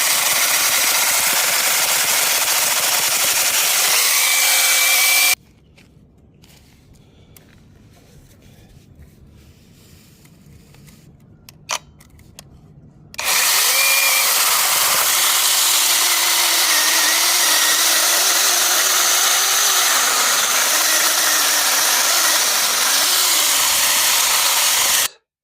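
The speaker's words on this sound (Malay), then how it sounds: "kita mulakan chainsaw ni" Battery-powered chainsaw cutting through a tree stump outdoors, a loud steady high-pitched whine that runs for several seconds, cuts out into a quieter gap with faint clicks and handling noise, then returns just as loud until the end.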